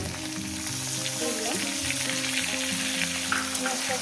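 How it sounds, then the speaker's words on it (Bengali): Chopped onion frying in hot oil with whole garam masala spices, a dense, steady sizzle that stays loud and close throughout with no talking. "আমি একটু লাল লাল করে ভেজে নেব"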